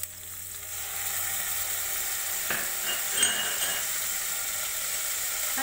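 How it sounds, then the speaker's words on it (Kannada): Fennel seeds, onion and ginger garlic paste fry in hot oil in a pan, a steady close sizzle with a few light clinks of a spoon stirring. "ಹಾಕಿ ಒಂದು 2 ನಿಮಿಷ ಫ್ರೈ ಮಾಡ್ಕೊಳ್ಳಿ"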